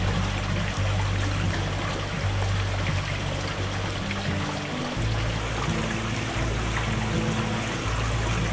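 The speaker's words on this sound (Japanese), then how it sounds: "キーンと冷えた中で入る露天風呂、こういうのもいいよね。" Water flowing continuously at an outdoor hot spring bath at Myoken Onsen in Kagoshima on a cold night, a close, steady trickling rush with a low rumble beneath it, and no voices.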